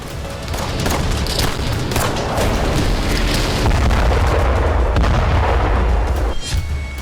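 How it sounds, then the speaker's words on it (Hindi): Gunfire and blasts sound during a night-time Israeli army raid at Al-Shifa hospital in Gaza: a loud, dense, unbroken barrage with deep rumbling booms that runs for several seconds, with no voices. "अस्पताल के कैंपस को घेर लिया गया और फिर फायरिंग शुरू हो गई।"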